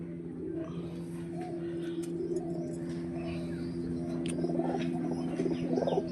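Pigeons coo steadily in a low, continuous drone close by, with faint scattered chirps and light background noise throughout.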